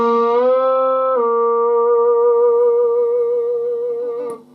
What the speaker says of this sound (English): you want to add a lot of vibrato at the end